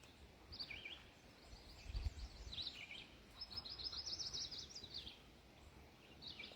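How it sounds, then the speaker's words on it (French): Birds singing outdoors, with several bright chirping phrases and quick trills at moderate distance over a soft background hiss and a brief low thump, no talking. "Écoutez ça, les oiseaux."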